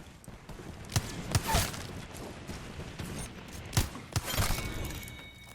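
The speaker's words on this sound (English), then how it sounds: "They're shooting at me." Scattered gunshots in the Apex Legends battle royale game, a handful of sharp, separate cracks spaced irregularly over a low, noisy background, fairly quiet overall.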